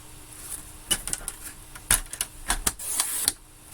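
A paper trimmer slices through a sheet of paper in a crafting session, producing several sharp, close clicks and scraping swipes spread over a few seconds, quiet and without voices.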